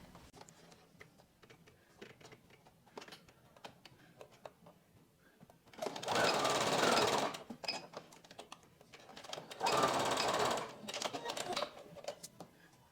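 A sewing machine stitches fabric for a top in two short loud runs of whirring, set apart by a few seconds of quieter handling clicks, with a voice speaking at times.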